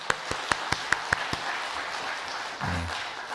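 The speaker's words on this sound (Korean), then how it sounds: "격려의 박수로" Church congregation applause of encouragement: a few sharp, evenly spaced claps stand out near the start over a softer spread of clapping, which fades and gives way to a brief low murmur toward the end.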